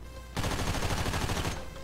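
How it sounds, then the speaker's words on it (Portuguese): Video game gunfire in GTA V: a dense, loud burst of rapid shots erupts after a quiet moment and runs for over a second before cutting off, with no talking. "Caraca, errei todos os tiros"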